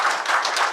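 Audience applause honouring a champion rifle shooter at a hospital's robot-assisted surgery program launch, a dense, steady patter of many hands clapping throughout the short burst, no voices.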